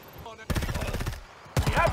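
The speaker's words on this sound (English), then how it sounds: "We're getting shot at." Rapid bursts of automatic gunfire from Predator: Hunting Grounds, two loud close volleys separated by a brief pause, with a voice briefly heard beforehand.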